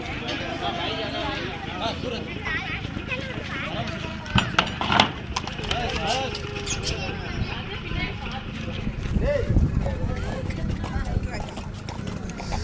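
A horse led out of a transport vehicle at a temple horse and cattle fair, hooves thudding and clopping on the ground amid steady crowd noise and someone talking over it.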